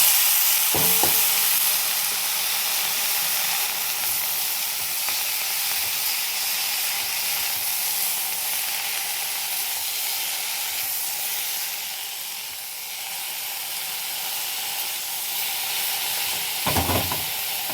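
Leafy bathua and spinach greens go into a pan of fried eggplant and sizzle with a continuous steamy hiss, with a couple of clattering stirs near the start and the end.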